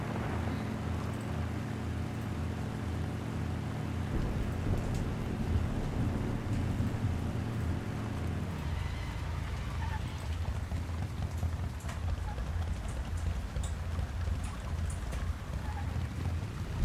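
Steady rain pours in the survival game Once Human, a dense constant hiss with occasional low rumbles, continuing evenly throughout with no voice over it.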